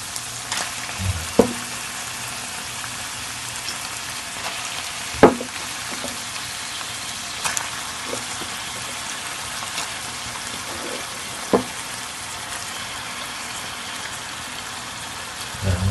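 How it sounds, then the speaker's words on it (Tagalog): Squid stir-frying in a hot pan, a steady loud sizzle running the whole time, broken by occasional sharp knocks and clatters of the utensil against the pan. "Lagay na natin ang pusit."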